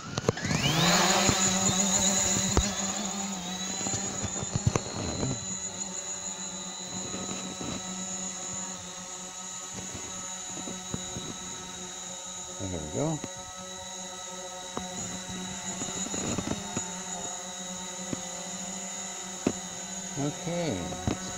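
A Hubsan Zino drone taking off in a garage and flying: high steady whining rotor drone with harmonic tones, rising at liftoff then holding, close, with occasional knocks and a voice talking over it.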